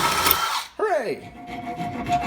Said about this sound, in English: Deburr it. Deburr it, kid.